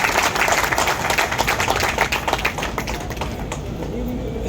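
A crowd applauds steadily, dense overlapping claps that hold strong and then taper slightly toward the end.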